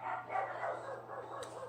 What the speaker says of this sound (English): Damn dogs barking on my poem.